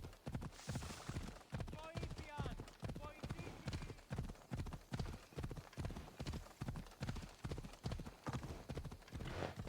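Horse hooves clip-clop in a steady, even trot in Assassin's Creed Odyssey, loud and close throughout, with a brief whinny early on.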